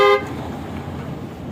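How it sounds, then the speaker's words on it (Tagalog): An upgraded PIAA horn fitted to a car gives one short, loud, bright honk at close range, then cuts off, leaving steady background noise. "Sige nga sir, try nyo nga po busina sir."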